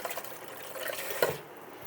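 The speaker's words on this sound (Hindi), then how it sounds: "ज़रा सा पानी और डाल लूँ" A little water is poured into a pot of chicken qorma, making a soft liquid splash and trickle that swells briefly near the middle, close and fairly quiet.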